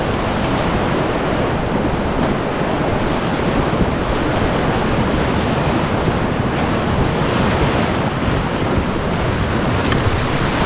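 Whitewater rapids on the Black River near Watertown, New York, heard from a raft, a loud constant roar of churning water mixed with wind buffeting the microphone, with no talking.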